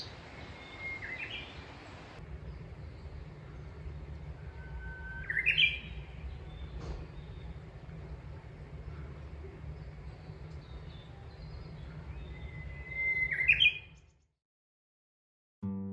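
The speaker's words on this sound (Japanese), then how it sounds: "小鳥のさえずりを楽しみながら" Small birds chirp and tweet in short bright bursts over a steady low outdoor hum at a highland resort in Kujū, Ōita, the calls scattered and moderately distant before the sound cuts to near silence.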